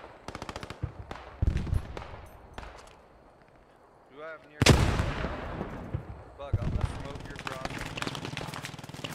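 Gunfire crackles through a night-time town assault in the video game Post Scriptum, with a sudden loud grenade blast midway that rolls into sustained rapid firing, and voices chatter faintly underneath.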